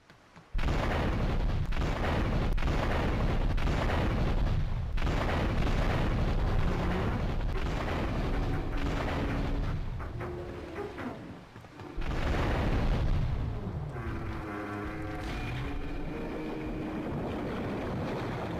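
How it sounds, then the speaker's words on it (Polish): Ship blowing up and sinking in the video game GTA 3, heard as loud, sustained rumbling explosion and churning water noise that dips briefly, then resumes with a steadier roar and faint tonal game sounds. "No i statek idzie na dno."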